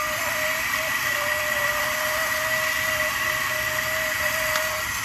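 A Badland 1,500 pound winch runs slow and noisy, making a constant loud electric motor whine with a steady tonal hum and broadband grinding that carries on without a break.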